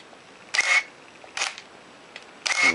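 A Canon EOS film camera shutter fires at a one-second exposure, each release a crisp mechanical clack followed a moment later by a second snap, with a further shutter clatter near the end, close and loud.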